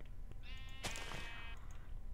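Sheep in Minecraft give a single wavering bleat near the middle, fairly clear against a low background hum, with no talking.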